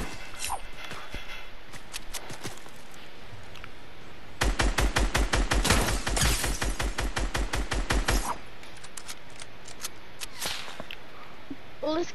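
Rapid automatic gunfire from a Fortnite match, a dense burst of evenly spaced shots lasting several seconds, with scattered single shots before and after under faint background game sound.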